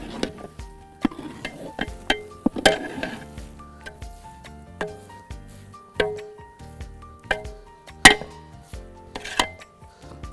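Metal spoon or ladle stirring buffalo head biryani rice in a pot, giving a series of sharp clinks and scrapes at irregular intervals, close and fairly quiet, with no talking.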